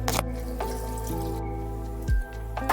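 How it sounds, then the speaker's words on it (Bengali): A small splash of water poured over diced potatoes in a pot while cooking Bengali egg and potato bhujia, heard as a brief close trickle and drip without any talk. "অল্প জল দিয়ে নিলাম"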